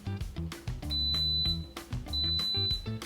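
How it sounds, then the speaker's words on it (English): An Instant Pot pressure cooker lets out two long, thin high beeps, each lasting about a second, faint under bouncy background music. "once you hear the instant pot beep, that's when you take out the eggs"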